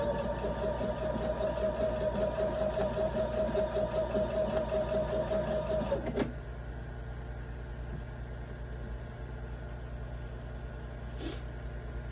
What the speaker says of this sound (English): I'm just going to be sewing corner to corner